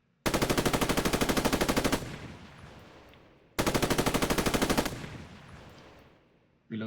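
Machine gun in a Roblox military game fires two long rapid bursts on the rapid rate setting, loud and evenly pulsed, each burst trailing off into a fading echo before the next.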